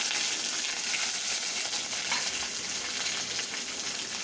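Chopped green chili hitting hot oil with curry leaves and ginger for vegetarian okhma, a dense continuous sizzle heard up close and alone for a few seconds.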